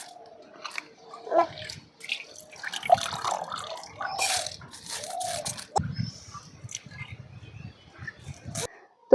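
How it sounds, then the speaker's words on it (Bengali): Rice for chicken biryani is swished and rinsed in water, with wet sloshing, dripping and soft grainy clicks coming in irregular bursts up close. "চালগুলো আমি তিনবার করে ধুয়ে নিয়েছি"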